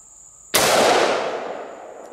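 A single loud .223/5.56 rifle shot fired over a chronograph at an outdoor range, a sharp crack with a long, fading echo and a steady high-pitched tone in the background.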